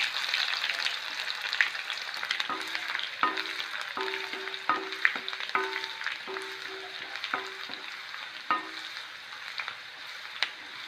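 Small onions sliced into rounds frying in a pan make a continuous bubbling sizzle, with regular stirring scrapes and taps for about eleven seconds.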